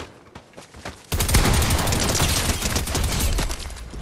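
Dense automatic gunfire in a video game bursts in loudly after a quiet start, a rapid sustained fusillade of close shots continuing to the end.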